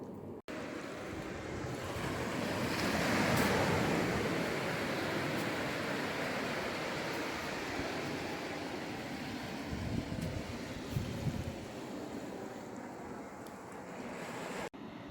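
Surf washes steadily onto an empty beach, a broad continuous roar that swells and eases, mixed with wind buffeting the microphone and no voices.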